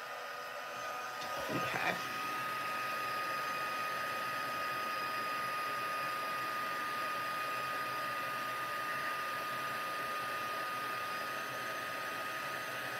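A heat tool blows steadily to melt embossing powder on paper, a continuous close airy whir with a steady hum that runs nearly unbroken after a brief knock early on, and a single short spoken word near the start.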